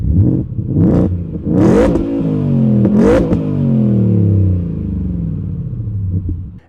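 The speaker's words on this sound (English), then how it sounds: "Exhaust sound, it sounds great." A Ford F-150 Raptor R exhaust in sport mode, loud and close, with several sharp throttle blips rising and falling, then a deep rumbling idle that settles and burbles away with no one talking.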